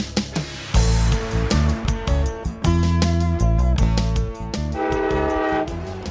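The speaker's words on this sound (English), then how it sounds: "a passenger train is en route from Iowa to Chicago" Horn of a passenger train travelling from Iowa to Chicago in the early 1960s, sounding loud, sustained blasts over a rhythmic rolling rumble that runs throughout.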